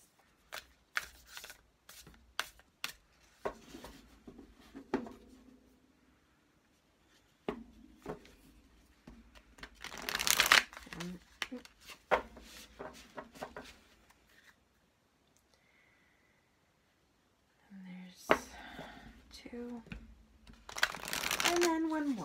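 A deck of playing cards shuffled close by in repeated quick riffles and clicks, with pauses between bursts and occasional light handling noises.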